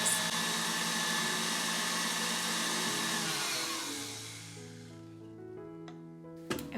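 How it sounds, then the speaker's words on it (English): An electric mixer whisks meringue for French macarons at high speed, a steady close whirring drone that winds down toward the end, leaving a fading hum and a brief clatter. "I am going to keep whisking at 8 until I get stiff"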